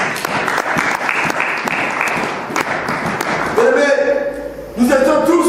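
A congregation applauds and cheers during a French-language evangelical church sermon, with steady dense clapping throughout and a voice rising over the crowd near the end.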